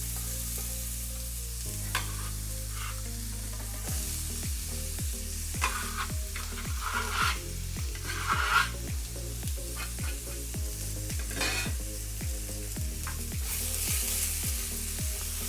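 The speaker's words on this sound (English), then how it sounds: "let's get our onion on the go here as well. Touch more oil, and then just start to sweat this off." Chopped onion sweating in a little oil in a pan over gentle heat, a steady soft sizzle with repeated scraping stirs and light clinks of the utensil, no voices.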